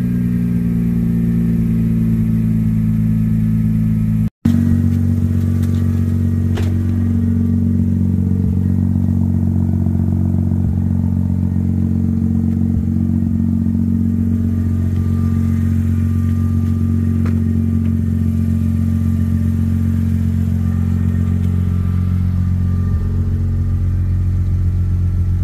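Mazda RX8 rotary engine idling steadily nearby with a low, buzzing drone, interrupted by one brief cutout early on, then continuing evenly with faint clatter.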